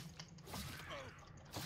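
A door mechanism activating in the video game Oblivion, a faint grinding, creaking rattle of gears and ratchets lasting under two seconds, with no voices.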